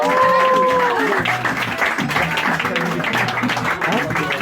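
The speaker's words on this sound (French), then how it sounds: "Un tonnerre d'applaudissements s'il vous plaît." An audience applauds continuously as a dense, even wash of clapping, with voices and a brief tone over the start.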